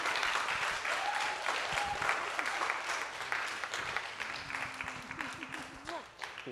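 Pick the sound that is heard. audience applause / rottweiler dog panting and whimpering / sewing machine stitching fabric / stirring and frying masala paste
audience applause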